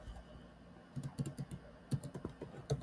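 Quick keystrokes on a computer keyboard while code is entered, with a short irregular run of light taps and key clicks that comes close and clear, with no voices.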